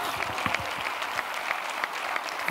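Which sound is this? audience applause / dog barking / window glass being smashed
audience applause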